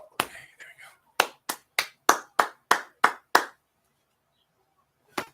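Applause at WrestleMania 41, a quick burst followed by eight sharp, evenly spaced claps close by that stop abruptly, with one last clap after a pause.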